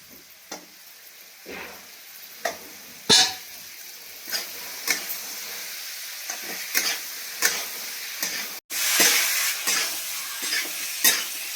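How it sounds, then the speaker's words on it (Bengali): Carrots fry in a pan for chicken soup, a steady sizzle broken by repeated scraping stirs of a utensil against the pan, close and fairly loud, with a brief gap near the end. "গাজরটা আমি হালকা করে ভেজে নিলাম"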